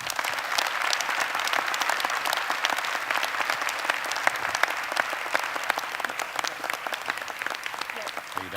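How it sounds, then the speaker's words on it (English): Sustained audience applause at an evening event about the opioid epidemic, dense, steady clapping from a sizable crowd lasting several seconds at an even level. "I'd like to have one last round of applause for everybody who showed up tonight."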